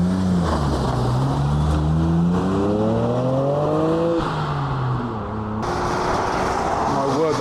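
A car pulls away at a roadside car meet in an unhurried takeoff, its engine note climbing steadily through the gears under continuous nearby crowd chatter and background road noise.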